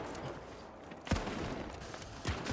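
Double-barrel shotgun in the shooter The Finals, two sharp booming blasts about a second apart over a busy game backdrop, near and punchy.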